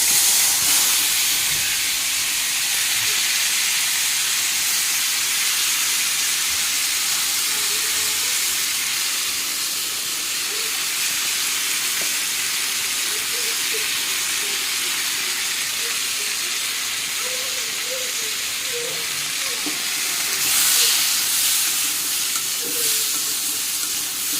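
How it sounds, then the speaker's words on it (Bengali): Banana and potato pieces fry in hot oil with a steady, dense sizzle and hiss that holds at an even level for the whole stretch, with no voices over it. "কলা আলুটা এখন ভেজে নিই।"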